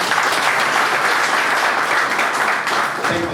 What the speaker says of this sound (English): A proper hand clap.